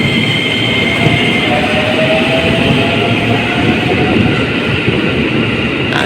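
A commuter train departs a busy elevated transit station in Bogor, a loud continuous rumble of wheels on rails with a faint squeal and no voices throughout.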